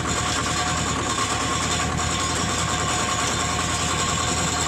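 Ditch Witch 3210DD directional drill with backhoe and backfill blade, its engine idling in a steady, loud, close drone with no talk.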